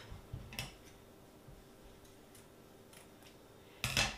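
Scissors cut through ribbon in a few quiet, close snips: a brief pair of clicks near the start, faint ticks in between, and a sharper final cut at the end against a near-silent background.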